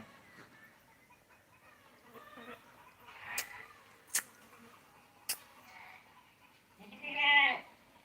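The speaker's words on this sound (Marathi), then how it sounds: "शेळ्या खूप ओरडत आहे" Goats bleat a few times nearby, the loudest cry near the end, with faint clucking and occasional sharp knocks in a quiet yard.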